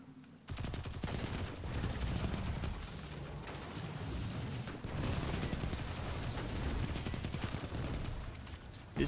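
Rapid, sustained gunfire from a toxic weapon in the video game Destiny 2, in Gambit mode, firing almost continuously at close range for about eight seconds after a brief quiet start.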